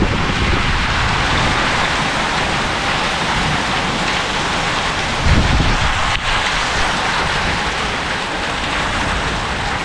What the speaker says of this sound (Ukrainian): Така гроза з молнії.